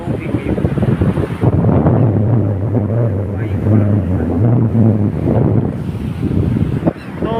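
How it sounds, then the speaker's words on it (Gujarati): Blustery wind at a rocky village seashore, roaring steadily and buffeting the microphone for the whole stretch, with a voice talking underneath. "અહીંયા અમારે દરિયા કિનારો છે ને એકદમ બધો રમણીય જ છે."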